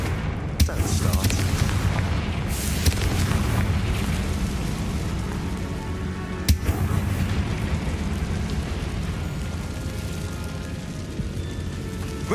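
Confringo fire-blast spells bursting inside a spider-infested tomb in Hogwarts Legacy, with sharp booms near the start and again midway over a dense, rumbling bed of game noise and combat sound.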